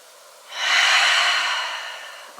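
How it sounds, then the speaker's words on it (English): A single deep, slow breath taken seated during chair yoga, a long airy inhale-exhale that swells and fades gradually, close and alone, with a brief soft sound at the end. "Just for a couple breaths here."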